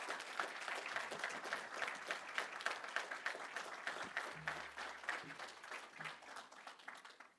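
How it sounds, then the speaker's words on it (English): A graduation ceremony crowd claps for the graduates in a steady, rhythmic wave of applause, heard faint and distant, continuing evenly for several seconds and tapering off at the end. "Please join me one more time in recognizing the accomplishments of our graduates with a round of applause."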